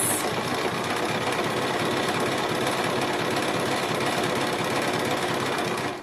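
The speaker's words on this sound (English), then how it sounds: "So we'll just have a look at this." A Bernina sewing machine running an applique stitch, a loud, close, continuous mechanical whir with a fast steady stitching rhythm that stops abruptly at the end.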